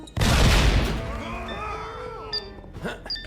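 A single sharp, loud explosion in the game Funko Fusion bursts up close and fades into a rumbling tail, followed by scattered game effects and small chimes.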